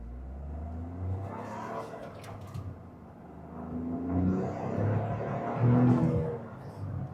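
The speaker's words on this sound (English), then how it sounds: "I'm gonna stop talking for a second just so you can actually hear what this car sounds like on acceleration" A stock Toyota Supra accelerates hard from the driver's seat, its engine note building in a steady rising rumble over several seconds, loud and close, with a hint of turbo flutter and no talking.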